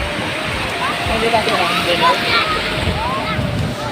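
Surf breaking on the beach at Cox's Bazar, a broad roar of waves with wind buffeting the microphone and faint distant voices mixed in.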